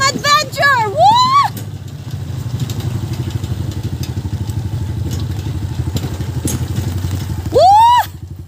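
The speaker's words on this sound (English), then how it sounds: "Street bike yung motor ko yun." A street bike motorcycle rumbles steadily through a ride to a nature spring in Balacbac, Bamban, its close engine drone continuous under loud whooping voices at the start and end.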